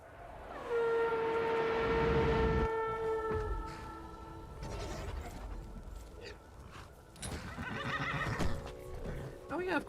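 A horse in the Skyrim video game whinnies loudly near the start, its long tonal call fading over several seconds, followed by clip-clop hoofbeats and game sounds; someone talks over it.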